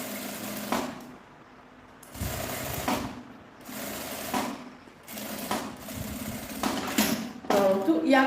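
A sewing machine stitches a securing seam along the edge of a zipper channel on a small fabric vanity case, running in several separate bursts with brief pauses between them.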